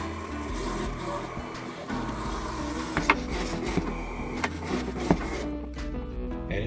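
A vinyl cutter plotter cuts out vinyl lettering in a travelling work setup, giving a steady mechanical whir with scattered sharp clicks and ticks as the blade moves, fairly close and continuous with no talking.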